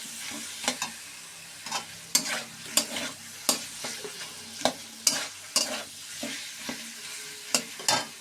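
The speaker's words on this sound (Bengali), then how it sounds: "দিয়ে এবার আলুগুলোকে মশলার সাথে ভেজে নেব" Boiled potatoes are fried and stirred with spices in a pan, a spatula scraping the pan in quick repeated strokes roughly every half second over a soft, steady sizzle, close and without talk.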